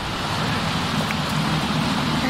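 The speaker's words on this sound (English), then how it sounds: "And it's raining." Steady rain in The Sims 4 forms a constant, even hiss of falling water throughout, with no distinct drops or gusts standing out.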